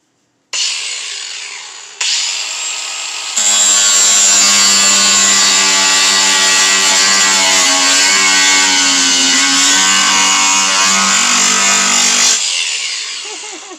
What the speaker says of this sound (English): I'll put a little bit more grinding on camera just so you can see